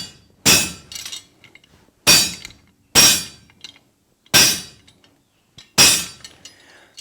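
Five sharp, ringing hammer blows strike hot steel for a fork set in a spring swage, evenly spaced about a second apart and loud and close, each ending in a brief metallic decay.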